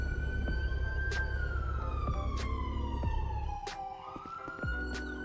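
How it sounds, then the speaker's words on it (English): A police siren wails in the game GTA 5 roleplay, a loud rising and falling electronic tone sweeping slowly, punctuated by sharp clicks and a drop in background rumble near the end. "I don't know what siren that's going off right now"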